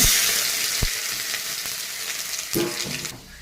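Bay leaves, panch phoron and chopped ginger fry in hot oil with a loud, continuous hiss of sizzling close by, with a few scraping stirs near the end.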